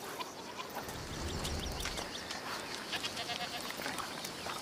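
A goat on a farm in the video game A Plague Tale: Requiem bleats repeatedly over a busy ambient background, the calls fairly clear and mid-distance with some bird and livestock sounds around.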